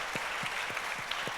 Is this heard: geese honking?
no